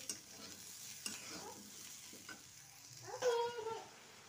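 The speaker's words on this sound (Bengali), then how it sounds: "ফুলকপিটা আলুটা ভাজা ভাজা হয়ে গেছে, তো এখানে এবার মশলাগুলো সব দিয়ে নেবো" Fried cauliflower and potato pieces are stirred with added spices in a sizzling pan, quiet scraping strokes over a soft frying crackle that swells briefly toward the end.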